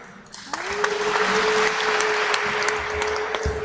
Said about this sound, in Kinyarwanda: ubwo mukomye amashyi imbere muraza kuyakoma kurushaho